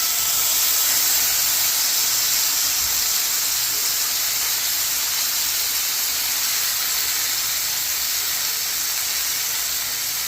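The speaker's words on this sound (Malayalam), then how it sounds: "എണ്ണ നല്ലതായിട്ട് ചൂടായിട്ട് നമുക്ക് ചിക്കൻ ഫ്രൈ ചെയ്തെടുക്കാം." Chicken frying in hot oil makes a loud, unbroken, even hiss and sizzle that stays steady from start to finish, with no voices over it.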